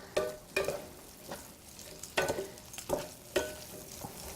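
Lamb mince and yellow capsicum sizzle in a pan, stirred in several sharp, close scraping bursts over a steady frying hiss, with no talking.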